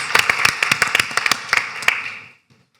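Short burst of audience applause at a proton therapy conference, close and crisp sharp claps building briefly then tapering off into silence within about two seconds.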